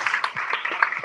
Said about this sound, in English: Can we have a round of applause for those celebrations?